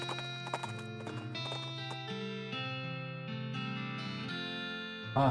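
Horse hooves in a video game clip-clop in a rhythmic trot beneath sustained tonal game music, moderately loud and continuous, with no voices.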